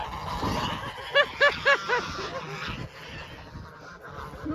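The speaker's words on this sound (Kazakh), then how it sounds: "Қаздар әдемі екен." Geese grazing on grass give four or five nasal honks in a quick, evenly spaced run, fairly close and loud, and then fall quiet under low outdoor background noise and faint nearby voices.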